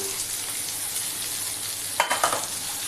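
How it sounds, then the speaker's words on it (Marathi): Vegetables, garlic and onions fry in oil in a pan with a constant sizzling hiss, then a few quick clattering stirs near the end, with no voices. "आणि आता ह्या सगळ्या भाज्या आपल्याला याच्यामध्ये शिजवून घ्यायच्या आहे"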